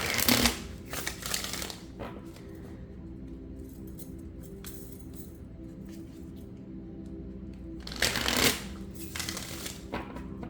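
Oracle cards being shuffled by hand, a crisp riffling burst at the start and another near the end, with softer card handling and faint rustles in between, close and alone without talk.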